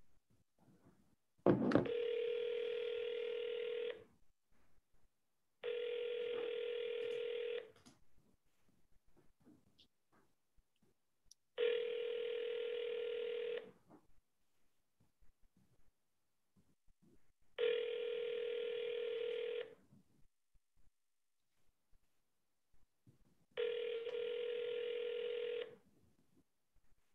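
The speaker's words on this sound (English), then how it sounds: "I'm going to call the local numbers." Telephone ringback on an outgoing call to a local real estate number, five long evenly spaced rings with pauses between, clear and alone after a brief click at the start.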